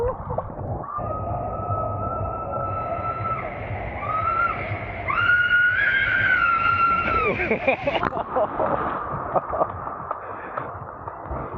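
Person screaming while riding a water slide at Thrill Island, Coco Cay, a long sustained tonal scream that breaks and rises in pitch over rushing water noise, ending in splashing and voices.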